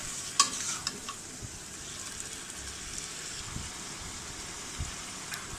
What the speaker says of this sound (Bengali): মাংস দিয়ে দিলাম। মাংসটা এটার সাথে কিছুক্ষণ কষিয়ে নেব।